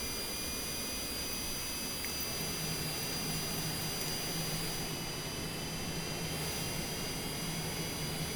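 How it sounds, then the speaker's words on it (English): Jet engine on the right side of an aircraft spooling up after pushback at San Luis Obispo, a steady broadband roar with a thin high whine and a low hum, continuous and fairly loud for the whole stretch. "right engine coming up nicely."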